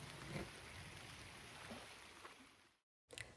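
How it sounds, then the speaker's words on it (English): A faint, steady hiss of light rain falling outdoors at a creekside campground, soft and continuous, briefly cutting out near the end. "The weather has changed and we're getting a little rain."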